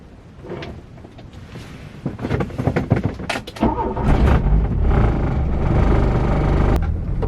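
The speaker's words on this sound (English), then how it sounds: "I'm also going to mount a microphone into the engine bay so you guys can hear the engine notes" A Volkswagen Golf Mk1 engine rumbles close by while driving, recorded from the engine bay, its low drone rising into a steady, strong hum after a few knocks and bumps.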